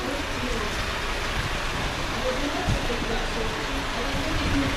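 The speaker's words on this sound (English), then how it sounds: "it's pouring with rain" Steady, dense rain in Belarus hisses continuously, a broad wash of pouring water with no letup.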